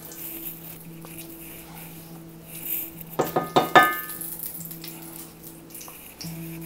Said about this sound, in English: Just gonna take it and put it in my skillet